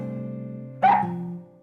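A single bark from Nana the dog, short and sharp, rising over a steady background music bed before the music fades out.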